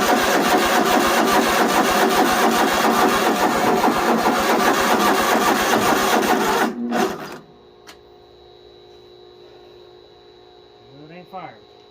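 An engine cranking without firing, a rapid rhythmic churning of the starter that runs steadily for about seven seconds and then cuts off, leaving a low hum and a faint high whine with brief soft sounds near the end.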